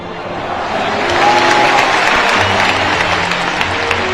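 A large crowd at a football celebration breaks into sustained applause, loud and dense, swelling after the first second and holding steady to the end with no voices on top.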